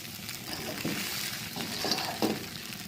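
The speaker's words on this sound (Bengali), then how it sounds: "নাড়াচাড়া দিয়ে পুরো চিড়ার পোলাওয়ের সাথে ঘিটা মিশিয়ে দিচ্ছি" Ghee is being stirred into chira pulao (flattened rice pilaf) in a pan. A spoon softly scrapes and clinks against the pan in a few irregular strokes over a faint, low sizzle, close but quiet.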